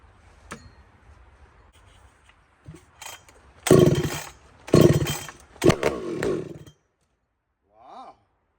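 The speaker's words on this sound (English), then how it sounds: "Let's see and listen to the saw." A Husqvarna 592XP chainsaw fires up with a few short bursts, then gives several loud, close revving roars in quick succession before cutting out, followed by a faint distant blip.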